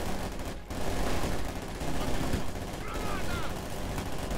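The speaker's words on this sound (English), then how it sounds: "Grenades going off here" Grenade explosions and gunfire in the Company of Heroes 2 video game, a dense continuous barrage of battle noise with bursts and rumbling blasts.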